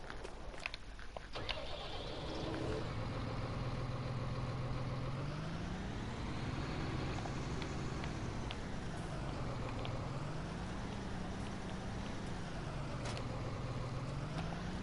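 A tractor engine in the game Farming Simulator 19, idling low and then steadily droning with rising and falling revs as it drives, loud and continuous with no talking.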